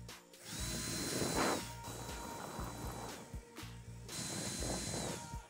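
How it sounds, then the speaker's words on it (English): Power drill boring a row of small consecutive holes with a small bit, repeated loud whining bursts with short pauses between, close up. "I started with drilling some small holes consecutively and sanded it with the same drill bit."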